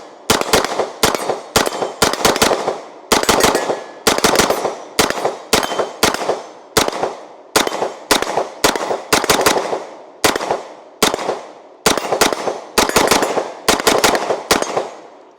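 A Sig MPX K submachine gun fires a long string of loud, sharp shots at close range, single reports and quick pairs spaced through the whole stretch, each followed by a short echo, with no voices.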